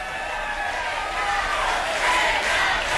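Studio audience of a Saturday television variety show chanting an actor's name in unison, a steady crowd roar with rising voices, moderately loud and continuous throughout.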